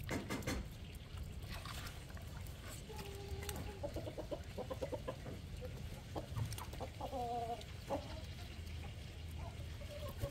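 Several chickens and roosters cluck and call nearby in short bursts, over a steady outdoor background, with someone speaking Turkish.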